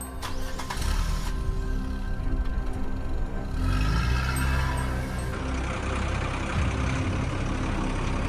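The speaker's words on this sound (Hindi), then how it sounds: "गुल्ली बुल्ली अपना गाड़ी निकालते हैं और तीनों बैठकर उस बंगले के पास जाने लगते हैं।" A cartoon car's engine rumbles steadily as it drives off toward a haunted bungalow, a loud continuous low drone with shifting pitch and a dense mechanical hum throughout.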